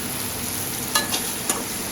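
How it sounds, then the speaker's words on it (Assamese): Chopped ridge gourd fries in a pan with a steady close sizzle, broken by a few brief scraping stirs of a utensil. "আৰু জিকাখিনি অলপ ভাজি ল'ব লাগিব"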